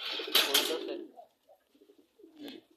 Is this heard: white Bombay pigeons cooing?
yes